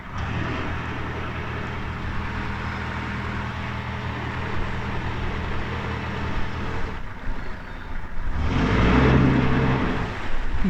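A boat engine churns steadily, then surges louder and rougher near the end as it is pushed into hard reverse, with water turbulence beneath.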